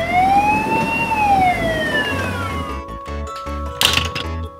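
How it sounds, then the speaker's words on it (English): A loud, close police car siren wails in a rising and falling sweep, then gives way to choppy rhythmic horn-like bursts with a few knocks toward the end. "Police car."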